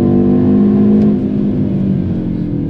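Audi RS 6 wagon with a 600 hp engine accelerating hard on a straight, a loud, dense engine drone that eases off slightly toward the end, heard from inside the car.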